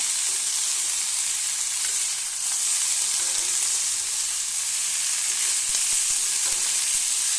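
Steady, bright sizzle of spices and potatoes frying in oil for an Assamese banana flower curry, with faint scraping of stirring underneath, continuous and close.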